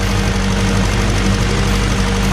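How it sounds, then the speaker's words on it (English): A 1951 MG TD engine running with heavy lifter noise, a loud, steady mechanical clatter over a deep droning idle, close up and constant throughout, with no talking. "It does make a lot of noise. A lot of lifter noise."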